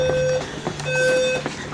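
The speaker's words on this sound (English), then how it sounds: "It's an alarm." An electronic alarm sounds in a room, giving short high-pitched beeps in a steady repeating pattern against a constant low hum, with some clunks and handling noise between beeps.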